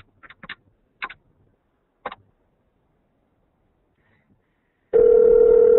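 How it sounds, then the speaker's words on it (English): A SIP softphone on a laptop rings with an incoming call, a loud steady electronic ring tone starting abruptly near the end after a few faint clicks and taps. "the SIP call is ringing"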